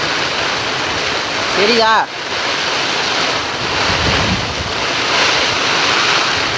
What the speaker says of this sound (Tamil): பாருங்க சாக்கடையெல்லாம் வளைஞ்சு ஓடுது.